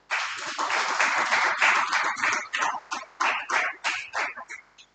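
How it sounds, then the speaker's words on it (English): Applause for a young startup founder at the SANVRIDDHI 2.0 valediction ceremony: close, scattered clapping that swells quickly, then thins into separate bursts and dies away. "A huge round of applause, everyone."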